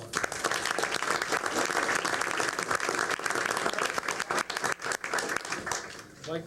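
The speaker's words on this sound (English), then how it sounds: "Again, let's give them a round of applause." An audience at a school board meeting applauds steadily, dense clapping that carries on for several seconds and tapers slightly near the end.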